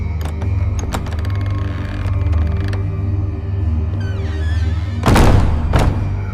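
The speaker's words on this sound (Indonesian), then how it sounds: "pintu kamar membuka dan menutup dengan kencang dengan sendirinya." A bedroom door creaks open and then slams shut hard on its own, with creaking and mechanical clatter first and then a couple of loud bangs near the end, all over a low steady drone.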